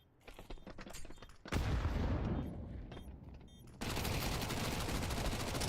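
Mac 10 and Galil gunfire crackles in a Counter-Strike match on the Nuke map, with rapid automatic bursts and overlapping volleys that grow denser and louder toward the end.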